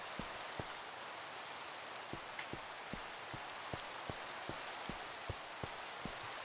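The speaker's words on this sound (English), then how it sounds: "Overworld is raining" Steady rain falls in Minecraft with the Aether mod, a soft continuous hiss with scattered sharp drip ticks, moderately quiet and unaccompanied.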